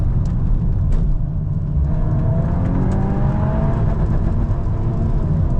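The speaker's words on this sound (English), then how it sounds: "it will bounce on the rev limiter" A 2025 Volkswagen Golf R engine held at redline, its tone droning steadily as it bounces off the rev limiter, loud and close with constant road and cabin noise and no talking.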